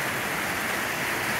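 Hail falls steadily on an RV cover in Capitan, New Mexico, a dense, even hiss of countless small impacts that holds without a break throughout.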